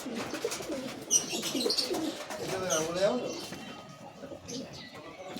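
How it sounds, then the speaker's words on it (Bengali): Pigeons of a Jamini Panja breed kept at a home loft, cooing in soft rounded bursts close by, with someone talking over and between the calls. "উল্লাসদার বাড়ির পায়রা"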